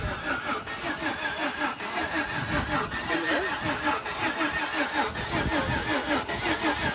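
A Jeep Grand Cherokee engine cranks and turns over, running with a steady mid-pitched rumble and rattle throughout, close to the microphone.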